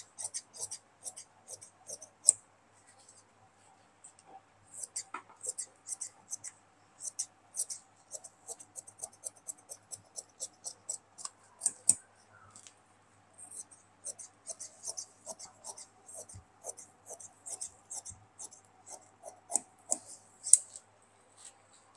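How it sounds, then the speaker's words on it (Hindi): Scissors cut through fabric for palazzo pants in a stream of close, quiet, crisp snips, irregular in rhythm with brief pauses, alongside faint handling rustle. "अब इसको हम काट लेते हैं।"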